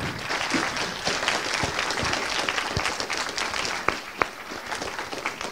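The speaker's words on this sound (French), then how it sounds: "Donc, on peut l'applaudir." A lecture audience at a school hosting an author gives sustained, even applause, dense and continuous throughout, with a few sharper claps standing out near the end.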